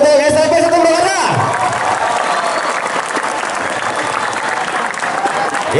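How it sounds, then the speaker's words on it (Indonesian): A school audience at SMP Negeri 1 Purwakarta bursts into loud, sustained applause with some cheering, following a voice over a loudspeaker at the start. "Tepuk tangan dulu untuk SMP 1 Purwakarta."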